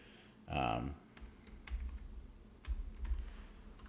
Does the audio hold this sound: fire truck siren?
no